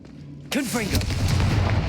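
The Confringo explosion spell in Hogwarts Legacy bursts with a single loud boom, followed by a rumbling, crackling blast that stays strong until the end, right after a voice shouts the spell.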